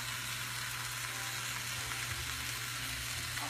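Onions sizzle in a hot pan for pork chops with apples, giving a steady bright hiss and crackle with a low hum underneath, continuous and close.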